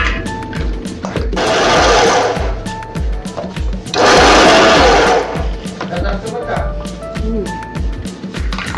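A kitchen mixer grinder whirs loudly while grinding peanuts in two bursts, each roughly a second or more long, with clattering and handling noises between and after the runs.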